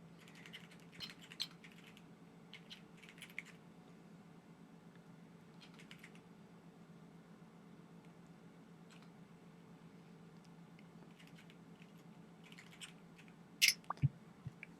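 Quiet keyboard typing during a tabletop roleplaying session, with scattered soft clusters of key clicks over a low hum and one brief sharper clatter near the end.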